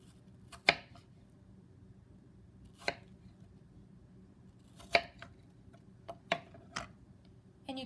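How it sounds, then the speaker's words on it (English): A kitchen knife dices an apple into half-inch pieces on a cutting board, with a handful of sharp, close chops spaced irregularly against a quiet background and no talk. "I would then further cut this into 1/2 inch pieces."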